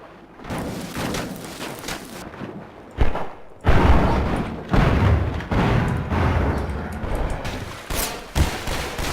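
Bombs explode in the Half-Life 2 game as a series of heavy booms and thuds, several loud bursts over rumbling combat noise, with brief gaps between blasts.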